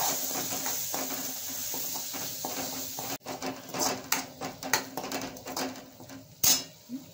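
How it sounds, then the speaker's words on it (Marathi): Roasted onion and coconut masala paste with garlic is being sautéed in a pan for a muri fish curry. A spoon clatters and scrapes against the pan in irregular knocks over a soft background hiss, close and moderately loud. "आता वाटण चांगला परतून घ्या"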